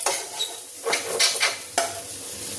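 A potato fasting chutney stirred in a pan with salt, giving repeated clattering scrapes of a utensil against the metal over a low sizzle and no talking.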